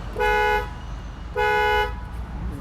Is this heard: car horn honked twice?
yes